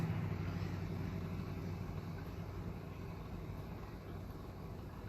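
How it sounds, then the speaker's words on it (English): A big empty flatbed truck drives past, a steady broad low rumble of engine and road noise that holds fairly constant and slowly eases off over about five seconds, with no talk. "Here comes a big empty flatbed truck."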